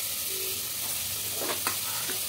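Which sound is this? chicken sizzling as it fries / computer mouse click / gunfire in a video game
chicken sizzling as it fries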